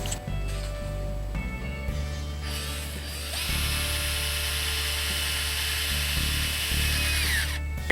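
A power drill drives screws into wooden picnic table boards outdoors, its motor whining loudly and continuously with rising and falling pitch as each screw seats.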